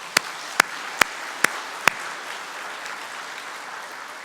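Five sharp, evenly spaced claps ring out, clear and moderately close, in a church during an Easter Sunday service, followed by quiet room tone with no voices.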